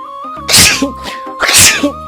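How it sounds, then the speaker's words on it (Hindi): Two loud, close sneezes about a second apart, each a sharp burst with a short intake before it, in a rural village setting with no talking. "ये तो छींकने में ही रह जाएगा।"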